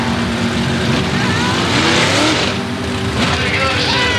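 Big Oldsmobile drag cars at a 1984 ET bracket race roaring down the strip, a loud continuous engine blare with rising pitch, heard alongside a race announcer's voice.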